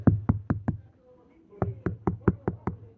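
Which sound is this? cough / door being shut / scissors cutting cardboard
door being shut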